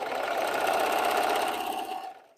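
Sewing machine running steadily while stitching quilt rows together, a dense continuous mechanical whir for about two seconds that cuts off near the end, with no talking.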